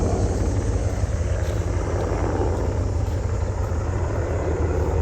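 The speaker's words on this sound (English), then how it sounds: "So this military helicopter has flown over our house several times." Military helicopter flying low over a house, its rotor and engine roar loud and constant for the whole stretch with a steady chopping throb and no voices.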